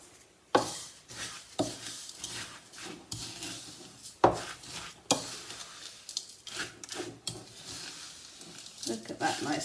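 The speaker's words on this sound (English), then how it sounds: "So now we just stir all this up." Crushed cornflakes mixed with a gooey melted mixture in a bowl, stirred with close scraping and crunchy rustling strokes in an uneven rhythm, steady and fairly quiet throughout.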